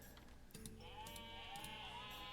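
Sheep bleat in a video game, several wavering bleats following one another over a steady synthetic background, with no voices.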